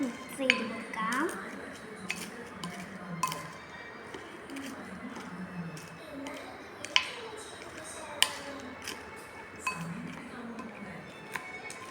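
A spoon clinks and scrapes against a bowl while a Lay's chips snack is stirred and mixed, light scattered taps and knocks at close range under a talking voice.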